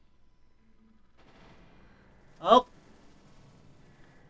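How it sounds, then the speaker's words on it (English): A single sharp gunshot cracks out loud and close amid quiet background noise, with a short exclamation from a voice. "A gunshot."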